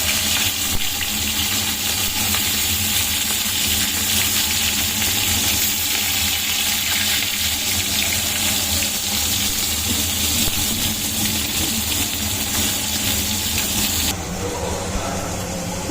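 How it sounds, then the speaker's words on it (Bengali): Fish heads frying in hot oil give a steady, dense sizzle that fills the scene continuously, close and fairly loud, with a softer watery hiss near the end and no talking. "আগে মাছের মাথাগুলো ভেজে নিচ্ছি"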